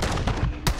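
Dense, continuous video game gunfire fills the stretch, with a sharp louder shot cracking near the end.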